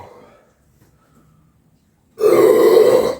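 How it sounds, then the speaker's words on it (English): One loud, long burp erupts after quiet, following the chugging of a 2 litre fizzy drink. "It's going to be a burp fest."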